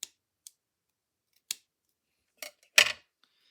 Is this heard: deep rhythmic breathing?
no